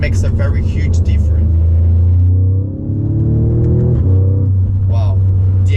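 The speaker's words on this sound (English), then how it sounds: "the exhaust is really incredible" Deep exhaust note from a 2018 Audi S3 fitted with an ABT power kit and quad exhaust tips, a loud steady rumble that swells in pitch midway as the engine revs, with a person talking over it.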